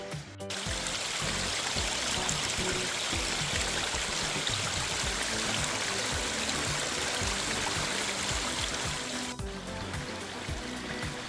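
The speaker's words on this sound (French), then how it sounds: "encore une petite source qui descend tranquillement" A small spring-fed stream trickles steadily downhill over a hillside path in the Jura countryside, a continuous soft babbling wash that stays close and even throughout, with no voices.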